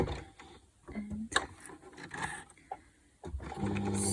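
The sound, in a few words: sewing machine stitching zigzag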